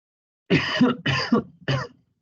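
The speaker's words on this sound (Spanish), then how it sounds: "discúlpenme la tos, por favor" Three harsh coughs in quick succession, close and fairly loud, the last one a little shorter, with silence before and after.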